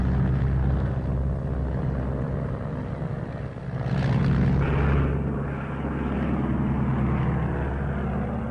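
Fleet Air Arm bomber aircraft flying off, a steady loud drone of propeller engines filling the whole stretch, swelling slightly midway as they pass close, with no talk.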